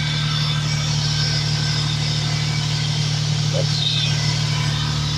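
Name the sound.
Toyota Corolla engine idling with bonnet raised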